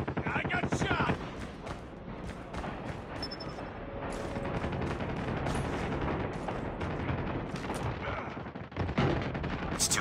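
Gunfire crackles through a first-person shooter match in the Hackney Yard team deathmatch map, with dense rapid bursts and sharp shots running almost continuously under the game's noisy action.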